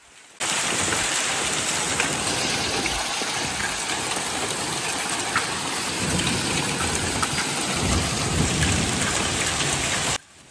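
Heavy hailstorm with rain in Tallahassee, Florida, making a dense, loud, steady roar of pelting rain and hail that runs unbroken for about ten seconds with no voices.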